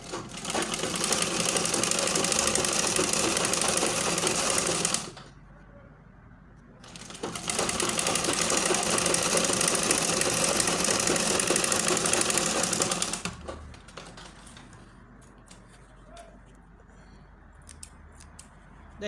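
An electric sewing machine runs in two loud, steady bursts while stitching the collar of a baby girl's dress, then falls to a quieter background hum.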